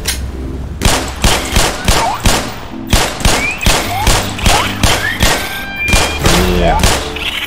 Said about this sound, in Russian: Ай, что здесь стреляют.